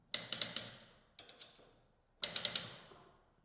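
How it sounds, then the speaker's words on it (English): Torque wrench clicking while tightening lug nuts on a 2023+ Polaris Ranger XP Kinetic wheel, three close, crisp clusters of rapid ratchet clicks separated by short pauses. "torque the lug nuts to specification in a crisscross pattern"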